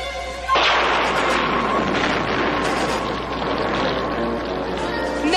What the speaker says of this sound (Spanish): Oh, Wizard, me parece que oí una explosión.